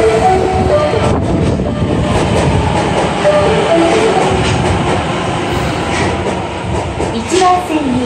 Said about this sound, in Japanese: 1番線に到着の電車は、難波、天王寺、我孫子方面、中松行きです。